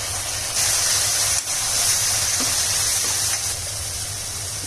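Tomato puree hits hot masala in a pan for bhindi masala and gives a loud, steady sizzling hiss that carries on evenly for several seconds.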